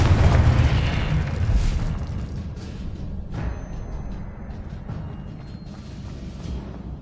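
A Confringo blasting spell explodes in the Hogwarts Legacy video game: a loud, booming blast at the start, followed by rumbling debris and a long fading roar.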